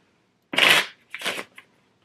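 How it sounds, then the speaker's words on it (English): Two quick riffles of a card deck shuffling, crisp and close, followed by a brief tap as the cards settle. "One more shuffle for good measure."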